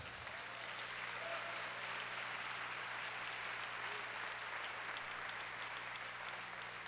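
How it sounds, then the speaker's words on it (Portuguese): A congregation at a Portuguese-language church service breaks into applause, a continuous even wash of many hands clapping at moderate distance over a low steady hum, with no talk over it. "Eu ouvi 3 aplausos, acompanhem, por favor."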